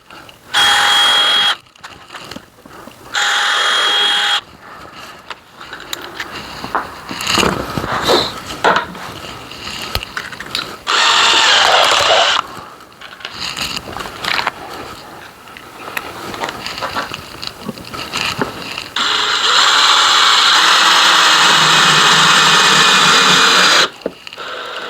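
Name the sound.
power drill drilling pilot holes in birdhouse wood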